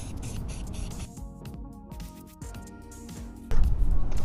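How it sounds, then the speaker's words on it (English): A spray paint can hisses in bursts, short sprays separated by brief gaps, close to the listener, with a louder rumble near the end. "So we're going to spray this."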